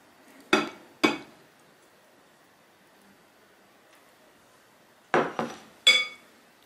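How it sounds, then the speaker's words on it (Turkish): A utensil knocks and scrapes against a bowl in a few sharp clinks, two early, then a quick cluster after a quiet gap, as batter is cleared out to pour into a pan. "Kasemizi iyice sıyıralım."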